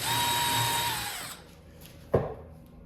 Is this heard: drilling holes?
yes